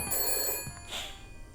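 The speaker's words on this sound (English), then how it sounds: "the phone rings in the distance" Telephone in the detective game Shadows of Doubt ringing at night, a bright electric bell ring that bursts briefly over quiet room ambience and a soft gramophone hum.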